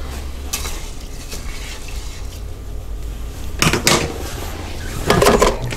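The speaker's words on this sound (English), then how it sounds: "Give that a little stir." Utensil scraping and clattering in a multi cooker pot while chicken, rice and mushrooms are stirred, a soft steady background with a few louder clinks near the end.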